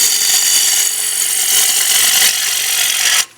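Bowl gouge paring a wood bowl blank on a lathe, a steady loud hissing, scraping cut that holds for about three seconds before stopping abruptly.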